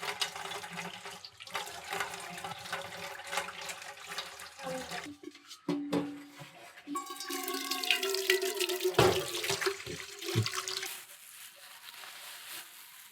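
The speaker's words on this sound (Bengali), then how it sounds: "শুরুতেই আমরা আগে হাত ধুয়ে নিব, তার কারণ পরিষ্কার পরিচ্ছন্নতা আগে দেখতে হবে" Hands washed under a running tap, water streaming and splashing unevenly, louder and brighter in the second half, with brief voices in the background.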